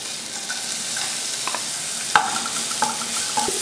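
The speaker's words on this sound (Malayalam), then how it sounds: "പച്ചമുളക്, വെളുത്തുള്ളി, ഇഞ്ചി ഇതെല്ലാം നല്ല പൊടി പോലെ അരിഞ്ഞു വെച്ചിട്ടുണ്ട്. അതിനകത്തേക്ക് ഇട്ടൊന്ന് നന്നായിട്ട് മൂപ്പിച്ചെടുക്കുക." Finely chopped green chilli, garlic and ginger fry in ghee for a hot, sweet and spicy pineapple soup. A continuous hissing sizzle is broken by a few sharp clinks and scrapes of stirring, with no talking.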